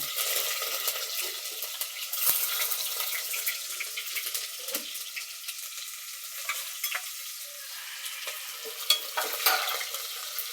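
Chillies and onion frying in oil for tomato pulao, a steady close sizzle with scattered pops and spatters and intermittent stirring.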